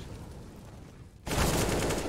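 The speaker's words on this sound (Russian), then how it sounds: "Это прям такая красивая стрельба была." Burst of loud gunfire in a 2v2 tournament video game match, erupting abruptly after a quiet stretch and continuing as sustained rapid shots to the end.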